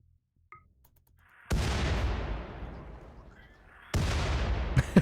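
Gunfire in an alpha run of a hostile-factions game: a faint early pop, then a loud broadband blast at 1.5 s that rolls off into a long decaying rumble, followed by another heavy burst near 4 s and sharp cracks at the end.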